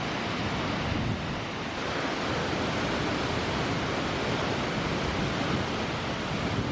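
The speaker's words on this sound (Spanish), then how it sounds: "podemos ver la impresionante cascada, un salto de unos 25 metros" A roughly 25-metre waterfall in a rainy, snowy park near Curacautín, heard as a loud, dense, unbroken roar of falling water close by, steady from start to finish.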